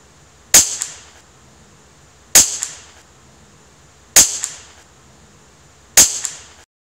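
A CZ 457 MTR rifle fires four sharp, loud single shots at even intervals about two seconds apart, each crack followed by a short decaying ring, with no talking.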